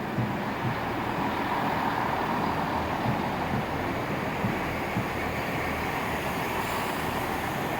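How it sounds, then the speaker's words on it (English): Steady, continuous roar of a long express train to Marylebone hauled by a powerful engine rushing past nearby at Chalfont & Latimer station, with a broad rumbling wash of wheel and rail noise and no talking. "Very powerful engine pulling this train. And this is quite a long train."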